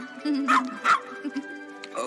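In the animated film Corpse Bride, a skeletal dog gives two bright, excited barks close together, then a few softer yips and whimpers, all over gentle background music.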